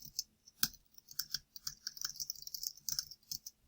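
Keys tapped on a computer keyboard in quick, irregular bursts, close and clear, with no one speaking while a question is entered on a course discussion site.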